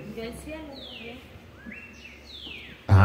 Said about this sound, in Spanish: es que los pájaros se oyen bonitos, de verdad